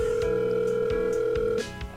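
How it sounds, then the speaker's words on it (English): A phone call being placed in a visual novel game: a steady electronic ringback tone holds for about a second and a half, then cuts off, with faint clicks beneath it and no voices. "I pull out Menji's phone and begin to make a call."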